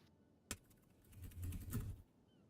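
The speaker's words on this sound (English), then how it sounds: "This guy's keyboard's even louder than mine." Loud computer keyboard typing during a livestream, a quick burst of clicky keystrokes after a sharp tap, fairly close and on its own with no talk.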